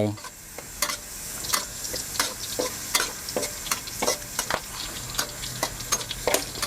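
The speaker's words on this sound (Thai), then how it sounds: "เราก็จะเจียว ตะไคร้แล้วก็พริกที่เราเตรียมไว้นะครับ" Lemongrass and chili briefly fried in hot oil for nam prik with crispy pork rinds, crackling steadily up close with sharp scrapes and clicks of a utensil stirring the pan throughout.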